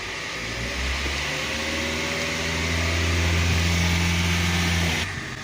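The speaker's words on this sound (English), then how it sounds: "Motor sounds good." 2012 Toyota Prius C engine idling after a tune-up, a steady close mechanical hum with a low drone that rises slightly midway and holds evenly before cutting off near the end.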